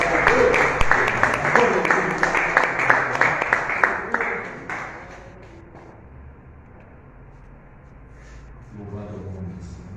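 A church congregation breaks into dense rhythmic clapping that fades after about four seconds into quiet room tone, with a voice rising faintly near the end.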